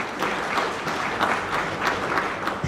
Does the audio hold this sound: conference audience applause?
yes